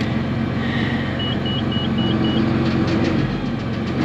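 A John Deere 8220 tractor runs steadily, powering a roller mill for grain corn, giving a constant close-up engine drone with mechanical hum and no pauses.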